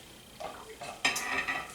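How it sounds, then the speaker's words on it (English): A pot of soup stock on the stove is stirred with a utensil, giving a few soft scrapes and clinks against the pan that grow louder toward the end of the brief moment. "I'm going to give it a little stir"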